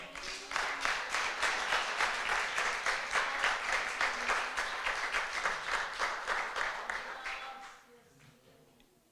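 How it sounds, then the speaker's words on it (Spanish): Congregation applauding at a church retreat devotional, a steady crowd clap lasting several seconds before fading out near the end. "Denle un aplauso al Señor."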